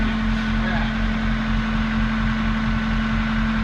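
A Case backhoe's diesel engine idles steadily after a hard cold start, a loud constant rumble with a steady hum and no breaks, running the whole time with talk mixed in.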